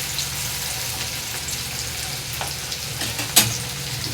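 Onion frying in oil until reddish, a steady even sizzle with faint scattered crackles and one sharp clink late on.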